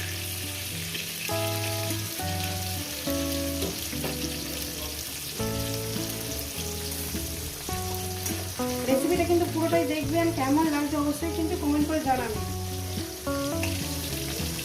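Pointed gourd (potol) slices fry in hot oil with a steady, even sizzle. Loud background music plays throughout, and a voice speaks briefly over it.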